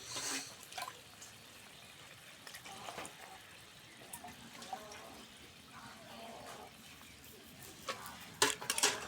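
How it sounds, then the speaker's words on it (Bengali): Water is poured into an okra and fish curry in a pot, giving faint splashing and dripping sounds with scattered clinks. "এবার আমরা ঝোলের জন্য পানি দিয়ে দিব"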